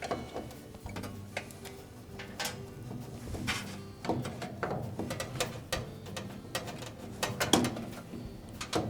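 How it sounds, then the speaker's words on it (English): Screws being backed out of the control console of a GE washer during a water inlet valve replacement, heard as a run of quiet ratcheting clicks and small metallic ticks, close by, with no talk. "Next, we'll remove the 2 mounting screws."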